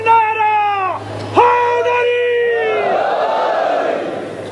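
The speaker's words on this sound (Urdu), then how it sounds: "دونوں ہاتھ بلند کر کے نعرہ" A large gathering at a religious majlis chants a slogan in unison with raised hands, loud sustained voices in two long calls, followed by an echoing roar of the crowd.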